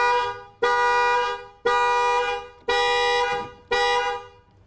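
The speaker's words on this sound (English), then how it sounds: "there, the alarm goes off" A Rover 200 Cabriolet's car alarm goes off with four loud, evenly spaced horn-like tones, each sharp at the start and fading before the next, ending with quieter noise.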